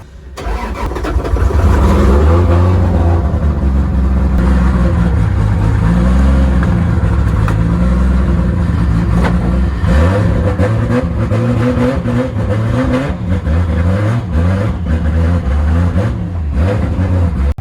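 A 1000-horsepower Nissan Silvia drift car on a dyno revs hard and continuously, its loud engine roaring with rising and falling pitch sweeps throughout, close and unbroken with no talking.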